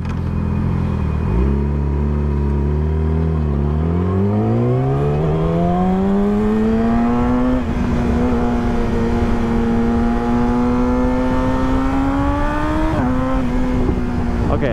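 A car engine revs loudly and climbs steadily in pitch as it passes close by, a sustained throaty roar that rises, levels off and surges again, with no talking.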